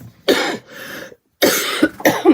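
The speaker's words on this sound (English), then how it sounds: "I'm already coughing" Several harsh coughs in two bursts separated by a short pause, close and fairly loud, with no talking.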